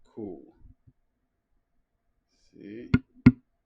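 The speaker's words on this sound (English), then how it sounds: "very loud clicking, but it's okay." Two loud, sharp clicks from pressing the knob on a ZealSound BD9 microphone to switch its RGB mode, close up, following brief speech.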